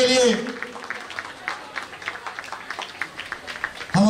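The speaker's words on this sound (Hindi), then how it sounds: "जोरदार तालियां होनी चाहिए।" Applause for former headmaster Kamal Adhikary at a school welcome event: a crowd claps in a scattered patter that starts up after a brief voice and stays fairly soft through to the end.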